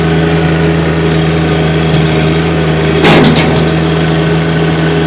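A John Deere 1025R sub-compact tractor engine runs steadily in low range with a constant mid-pitched hum, close and loud, with a brief rougher burst partway through.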